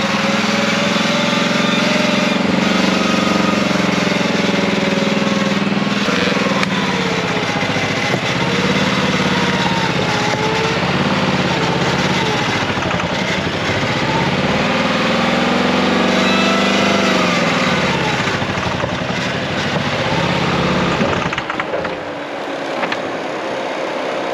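An old Land Rover engine with poor compression runs roughly, loud and close with an uneven, wavering drone, then falters and dies away near the end.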